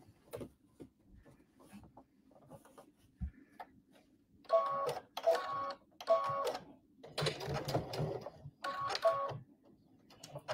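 A sewing machine top stitching a patchwork border with ric rac, running in several short rhythmic bursts of fast mechanical clatter between quiet pauses, close and clear.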